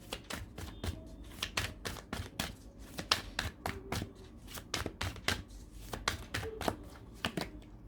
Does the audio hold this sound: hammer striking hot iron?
no